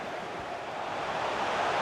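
Stadium crowd noise from a FIFA football video game makes a steady, loud, broadband roar that swells slightly and holds without distinct voices.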